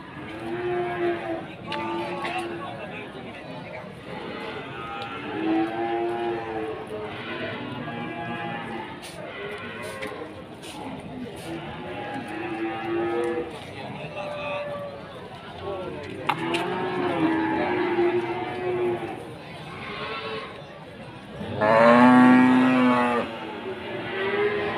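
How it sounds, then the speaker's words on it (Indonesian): Feeder cows at a livestock market, including Simmental cattle, moo repeatedly in long, drawn-out calls, some near and loud and others farther off. People talk throughout the market clamor. "Ini sapi-sapi bakalan jokrok ini."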